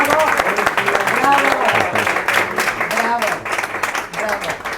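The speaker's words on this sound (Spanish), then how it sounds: "y le pido también un fuerte aplauso para ella." Loud applause fills a conference hall, with many hands clapping densely and steadily while voices and cheers rise above the clapping.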